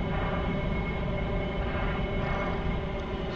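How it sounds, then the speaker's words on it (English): A Harrier jet landing in a video game, its engine giving a steady, loud roaring drone that holds without break for the whole stretch, with no talking over it. "Harrier landing."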